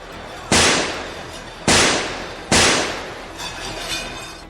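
Three loud, sharp shotgun-like blasts ring out in quick succession at a hotel event, each followed by a decaying echo, then fainter noise afterward.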